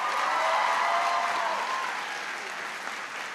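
Audience applause in a large hall at a presidential back-to-school speech, greeting the mayor of Washington, D.C.: a dense, steady wash of clapping, loud at first and easing slightly toward the end, with no voices over it.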